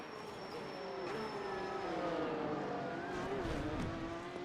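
A race car engine in the iRacing simulator holds a steady, fairly quiet drone with gliding pitch as the car shifts and revs, heard alone without talk.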